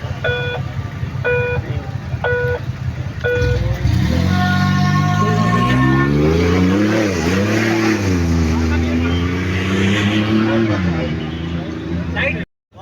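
A rally jeep in the Cholistan Jeep Rally rolling up to the starting point in the desert, its engine rising and falling in loud revs after some beeps, while a commentator talks over it.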